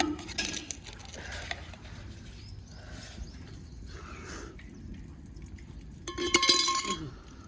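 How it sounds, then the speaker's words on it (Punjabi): Dishes clink and clatter intermittently with water running as a kadai is washed, a louder burst of rattling near the end; quiet, close-up village kitchen sounds in Punjab. "ਬੀਬੀ ਭਾਂਡੇ ਧੋਂਦੀ ਆ"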